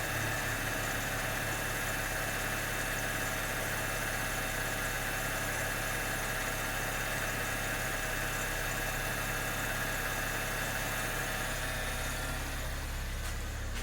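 Car engine with a freshly fitted Jacfab ported intake manifold, 80mm throttle body and nitrous plate, idling steadily with a low even drone and faint vibration, close and alone without talk.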